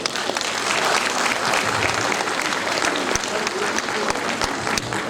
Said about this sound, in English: She needs a big round of applause.